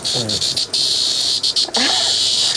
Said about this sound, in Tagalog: Ito po ay kuliglig.